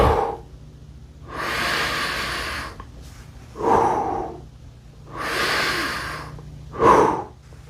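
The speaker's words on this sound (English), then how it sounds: "Now we'll forcefully breathe." Forceful breathing by a person sitting upright with the stomach drawn in, close and loud, alternating long hissing exhales with sharper, shorter inhales over several cycles.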